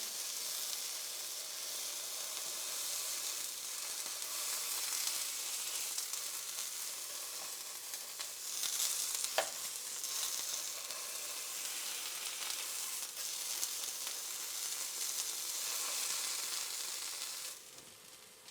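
A filet mignon searing in a hot pan gives a steady close sizzle and hiss throughout, with a few brief louder crackles and pops midway, and no talking.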